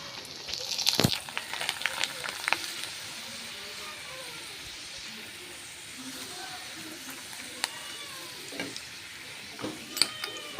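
Pipe-shaped snacks frying in oil in a pan, a soft, fairly faint sizzle with intermittent stirring scrapes and clinks, plus occasional sharp knocks, heard alone without talk.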